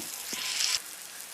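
Masala sautéing in a hot pan gives a steady, close sizzle and fry hiss that cuts off abruptly partway through, with a faint stir scrape beneath and no talk.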